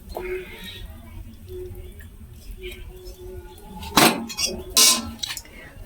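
Dry-cooked snake gourd curry is served from the pan into a clean bowl: soft scraping, then two sharp metallic clinks of a utensil against the dish near the end.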